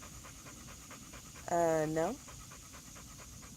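A dog named Gunner panting steadily in quick, soft rhythmic breaths close by, briefly interrupted by a person saying a single word.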